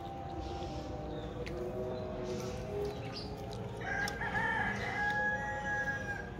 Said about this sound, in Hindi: ये तो उधर से मुर्गे की आवाज आ रही।